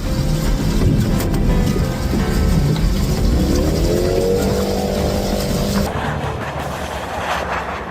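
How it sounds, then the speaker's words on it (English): An Audi e-tron Sportback drives through snow with a steady electric whine that climbs in pitch as the car speeds up, heard continuously under wind and road noise. "The Audi e-tron Sportback is out here playing in the snow, stretching its legs."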